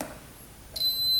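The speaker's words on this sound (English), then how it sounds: "all fuses are good. You can hear the beep on each one" A continuity tester gives a single clear electronic beep while an ATV fuse is checked, a steady high tone starting partway through and holding to the end, close and alone.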